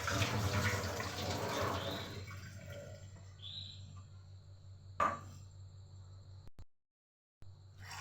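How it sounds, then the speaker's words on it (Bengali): Fresh leaves being rinsed under a running kitchen tap, a steady close water stream that tapers off, with a brief splash or clatter midway and a short dropout near the end. "পাতাগুলোকে ভালো করে ধুয়ে নেব।"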